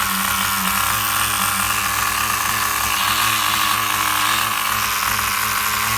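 A small high-revving nitro engine on a Duratrax Overdrive ST 4WD RC truck idles steadily and loudly, a constant raspy whine with no pauses.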